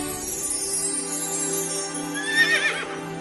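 A horse neighs in a long, quavering whinny that rises near the end, set over a sustained tonal backdrop in a narrated Bible reading, with no talk during the call.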